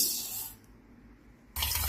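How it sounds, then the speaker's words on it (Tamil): Rice being rinsed in water for a children's breakfast dish, a soft splashing wash that fades briefly then returns louder near the end, close and alone. "இதை தண்ணீர் விட்டு ஒரு மூணு தடவை நல்லா அலசிக்கோங்க"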